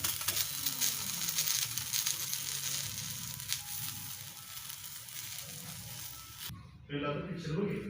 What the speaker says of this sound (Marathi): दुसरं पण थालीपीठ आता भाजले